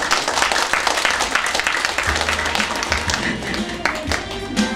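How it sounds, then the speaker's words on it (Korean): Busy clapping from a theater audience during a Korean pumba comedy stage show, rapid and uneven with taps and louder bursts, as a low music beat begins partway through. "자, 올려주시고 진짜 박수 치면서."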